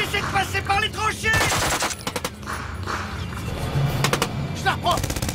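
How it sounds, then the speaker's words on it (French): Machine guns fire in a war film battle scene set in the Ardennes, with rapid rattling bursts and scattered shots mixed with shouting voices and blasts, loud and chaotic throughout. "Allez, prends la mitrailleuse!"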